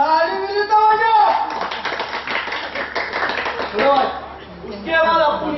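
An audience claps during a Hindi comic stage monologue. The applause comes as a dense, mid-loud patter running under a man's continuous speech.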